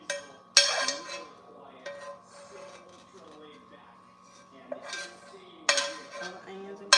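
Pans and utensils clatter in a home kitchen while onions and garlic go into a skillet for baked spaghetti, with sharp metallic clanks near the start and end and a voice talking in between.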